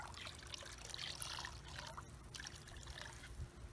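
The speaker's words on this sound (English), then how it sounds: "see, there's a little bit of fizzing there" Faint, steady fizzing and trickling as vinegar neutralizes a potassium hydroxide solution in water, a soft continuous liquid hiss with no talk over it.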